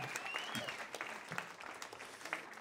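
Comedy club audience applauding a stand-up comedian, a steady wash of clapping from a mid-sized crowd that runs the whole moment at moderate volume.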